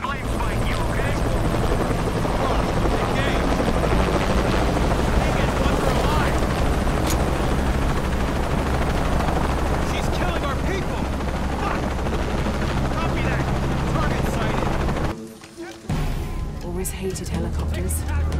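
Loud, continuous whir of a helicopter close overhead in the video game Shadow of the Tomb Raider, with voices talking over it and a brief drop-out near the end.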